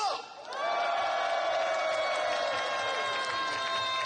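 A large crowd of farmers at a national rally raising a loud collective shout that swells and holds, a massed roar with a musical tone sustained underneath.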